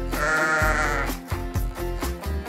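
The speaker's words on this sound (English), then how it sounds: "It's a sheep." A farm sheep bleats in a long, wavering cry near the start, followed by a couple of shorter bleats, heard close and loud over a low, steady backing of music.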